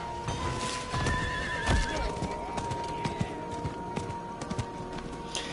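A horse mount in Diablo IV whinnies loudly and its hooves clip-clop steadily across the ground amid busy game effects.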